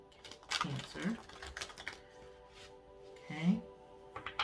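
A tarot card deck is shuffled in several quick, clicky bursts of riffling cards, close up, with a soft voice murmuring briefly in between.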